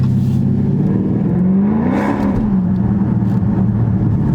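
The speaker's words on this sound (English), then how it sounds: "play with the sounds of the exhaust" A car engine revs hard under acceleration, its exhaust roaring loudly and rising in pitch before settling into a steady drone.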